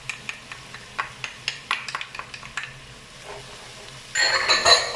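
Onions and garlic for beef bulgogi hit a pan; soft clinks and stirring taps come first, then a bright, hissing sizzle swells up at the end.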